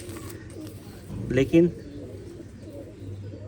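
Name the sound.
Indian pigeon cooing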